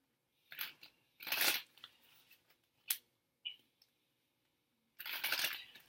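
A deck of tarot cards is shuffled by hand in a few quick, crisp riffling bursts separated by short pauses, close and fairly quiet, with no talking.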